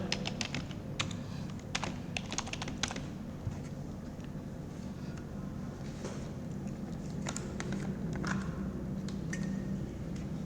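Typing on a computer keyboard while writing in Microsoft Word: bursts of quick, crisp key clicks with short pauses between them, close and fairly quiet over a low steady hum.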